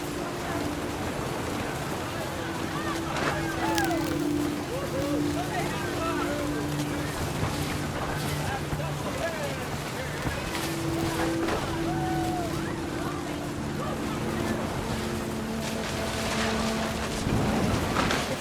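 Heavy rain and rumbling thunder in a storm from the video game What Remains of Edith Finch, a steady wash of downpour with low rolls, alongside tonal music and other game sounds.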